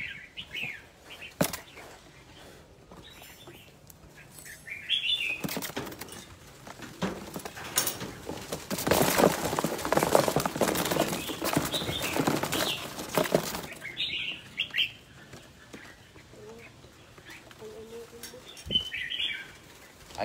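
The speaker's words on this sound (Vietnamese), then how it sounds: "từng con chim ở đây này" A flock of birds flaps and flutters, the wingbeats swelling to a dense, loud burst of flapping in the middle before thinning out, with scattered chirps at the edges.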